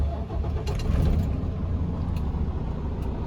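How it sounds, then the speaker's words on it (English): Truck engine cranking and catching, then settling into a low, steady idle rumble, close and continuous during an air brake test. "I will now start the truck."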